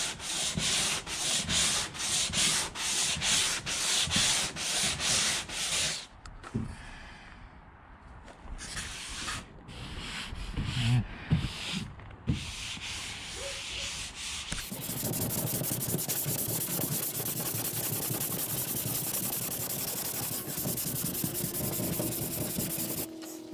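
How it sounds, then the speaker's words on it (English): TotalBoat Total Fair fairing compound on a catamaran hull is sanded by hand, a rapid rhythmic rasping of quick strokes at first, then a pause with scattered rubs before a steady continuous scrubbing grind takes over. "that was just a quickie sand on this"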